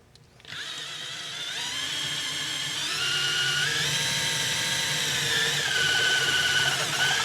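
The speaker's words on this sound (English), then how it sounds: "let's get a hole drilled here." An electric drill bores an antenna hole in the steel body of a 1957 Chevrolet Bel-Air, running as one steady, loud, high whine for about seven seconds with no talk.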